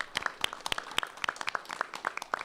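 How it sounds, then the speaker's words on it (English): A school board meeting audience claps steadily for an absent cafeteria manager. Irregular sharp hand claps come from a modest group, fairly close and of moderate loudness, with no talking. "we're clapping for you anyway"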